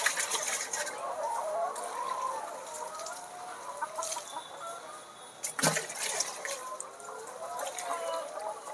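Farm chickens, left forty minutes without water, cluck softly near the water mugs amid faint watery sounds, with one sharp knock partway through.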